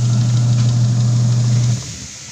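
A heavy-duty washing machine motor with a new gearbox hums steadily and quietly, a low even drone that cuts off near the end, leaving faint background noise.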